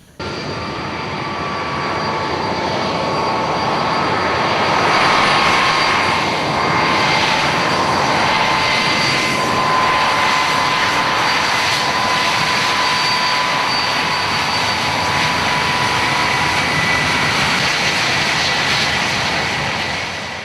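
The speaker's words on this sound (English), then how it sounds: "It's very interesting to be back here at Bruntingthorpe and taxiing XM715 around" A Handley Page Victor XM715 jet bomber taxiing at Bruntingthorpe, its jet engines giving a loud, steady roar and whine that holds for twenty seconds with slight swells, no voices.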